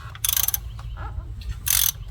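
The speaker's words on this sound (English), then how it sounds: "If you look down there, you can see it loosening." A ratchet wrench loosens a hub assembly bolt on a 2003 Chevy Malibu, giving two short bursts of rapid clicking close by, with quieter mechanical rattles between them.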